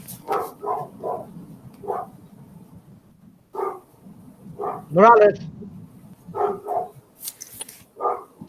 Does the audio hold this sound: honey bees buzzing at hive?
no